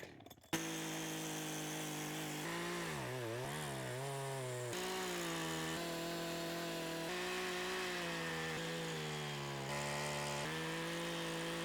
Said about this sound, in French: On commence à tirer un plateau avec une grosse tronçonneuse.